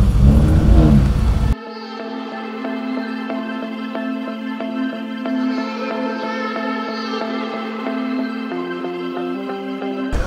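A Honda Ballade car engine runs steadily for about ten seconds with a strong low hum and stacked harmonics, its pitch rising and shifting slightly near the end as the revs change, after a brief burst of louder noise at the start.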